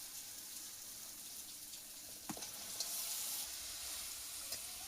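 Chicken pieces tipped into a pan of tomato masala and frying, a soft continuous sizzle with a few sharper spatters and stirring clicks, close and without talk.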